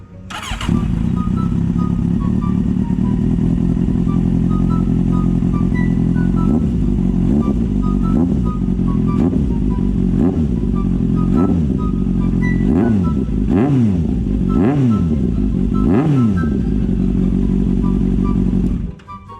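A Kawasaki Z800 motorcycle with an aftermarket exhaust starts and idles loudly up close, then is revved in repeated sharp throttle blips that rise and fall.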